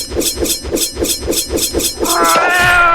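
A cat demon in Roblox meows repeatedly in a fast, regular run of about a dozen short cries, followed by a longer, higher drawn-out call.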